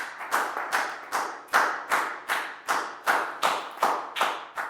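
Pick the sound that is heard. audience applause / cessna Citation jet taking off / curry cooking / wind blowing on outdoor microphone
audience applause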